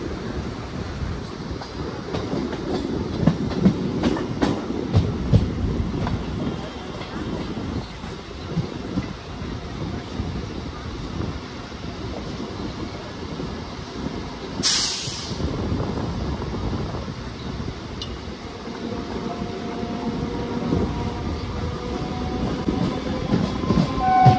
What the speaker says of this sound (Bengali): আবারও একটা বনগাঁ শিয়ালদা আমাদের পাশ থেকে ক্রস করছে।